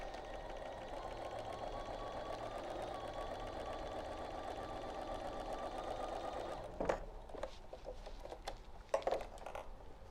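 A sewing machine runs at a steady fast stitch while sewing a large quilt border, a continuous close mechanical whir for about seven seconds that then stops, followed by scattered handling clicks and rustles.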